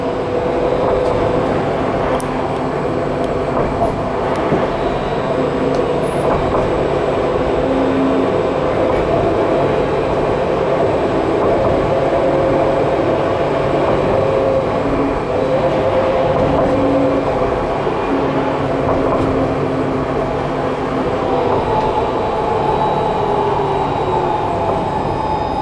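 An Alstom Citadis 302 tram on the Adelaide Glenelg line rolling along steadily, with a loud constant rumble and rattle of the car, the interior hum unbroken throughout.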